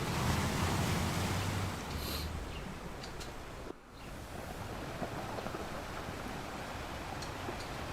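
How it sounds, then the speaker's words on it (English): Continuous broadband wash of water and waves, fairly loud and steady, with wind blowing across the microphone and a brief dip partway through; no voices. "I like the sound of that water."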